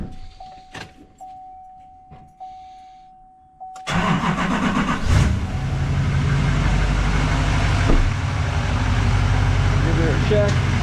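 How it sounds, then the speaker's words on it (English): An L5P Duramax diesel pickup truck cranks and fires up midway, then settles into a steady, loud idle that carries on to the end, with someone talking during the run. "Let's give her a start, make sure there's no issues, no leaks, nothing crazy."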